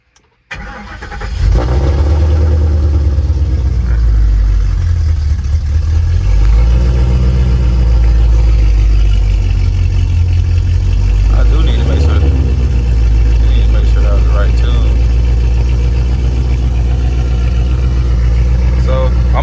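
Roush supercharged S197 Mustang with a 69mm throttle body, its engine starting up and then idling steadily and loud up close, a deep continuous rumble with slight surging throughout.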